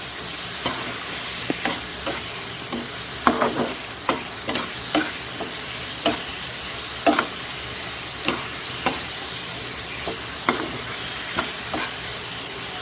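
Eggs are stirred and sautéed in a pan with thick mutton kosha, producing a continuous close sizzle punctuated by repeated scraping and knocking of a spatula against the pan.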